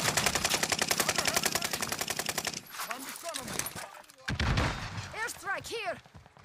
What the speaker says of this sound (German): Ich schieße ihn an.